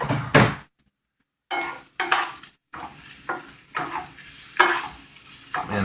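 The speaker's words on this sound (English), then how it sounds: "we want to saute this until the onions are transparent" Onions and garlic sauté in a pan for spaghetti sauce, with close, bursty sizzling and stirring scrapes broken by short pauses, and no talking.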